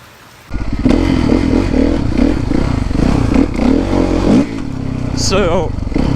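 A Kawasaki KX450F dirt bike with worn, treadless tires rides on leaf-covered woodland trails, its engine loud and close with a buzzing, revving drone that rises and falls, briefly dropping as a voice calls out.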